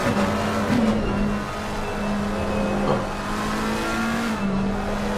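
GT3 race cars in the Assetto Corsa Competizione sim-racing game circuit together as a pack, engines droning loud and steady with rising revs, gear shifts and brief tyre squeal, and no voices heard.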